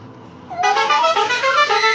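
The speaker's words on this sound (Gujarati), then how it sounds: "ઓલા અમને હોર્ન માર્યો તો ગાડી વાળા લક્ઝરી વાળા" A luxury bus sounds its horn in a loud, multi-tone musical blare that starts sharply and holds for over a second, with the pitch shifting between notes, close by over faint background noise.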